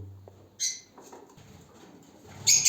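Soft flutters, light patter and faint lovebird sounds at close range from a nest box, with a brief high chirpy burst near the end.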